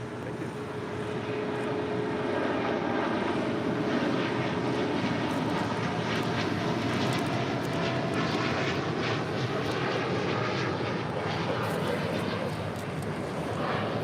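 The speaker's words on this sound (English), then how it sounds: "This is United Airlines 2614 taking off to Newark, 787-10 Dreamliner." A United Airlines Boeing 787-10 Dreamliner takes off from LAX bound for Newark, its jet engines roaring loudly and steadily throughout, with a faint tonal whine early on and no voices.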